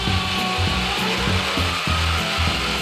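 An electric drill bores into a surface but fails to go deep, a loud continuous grinding whine with rhythmic chattering pulses as the bit catches, close by with no voices.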